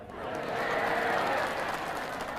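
Steady, dense audience applause fills a hall during a religious sermon in West Sumbawa, sustained and fairly distant, with a faint murmur of voices blended in.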